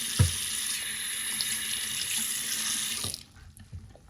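A tap runs steadily into a basin for dog washing, a continuous splashing hiss that cuts off near the end and leaves a quiet room.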